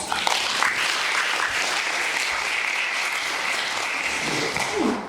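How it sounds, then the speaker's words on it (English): An audience applauds a professor after her presentation: dense, steady clapping from many hands, sustained evenly across the whole stretch with no voices over it. "Let's give her another round of applause."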